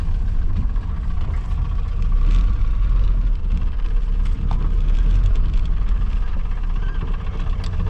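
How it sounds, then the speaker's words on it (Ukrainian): A GAZ-21 Volga running on LPG gas while driving, its engine a steady, fairly loud low drone with road rumble throughout and no talk. "На бензині трошки краще, а на газу досить непогано."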